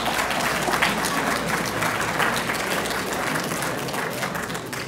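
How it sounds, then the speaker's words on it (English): A congregation in a shul applauds steadily for a rabbi's 47-year tribute, dense clapping from many hands sustained evenly for five seconds with a faint murmur of voices underneath. "Let's give all these people a round of applause."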